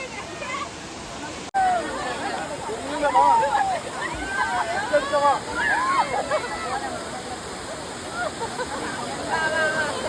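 A waterfall in Kannur roars with steady broadband rushing and splashing water, close and continuous, while several voices chatter and call over it throughout.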